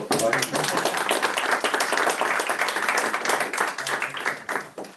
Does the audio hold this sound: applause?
yes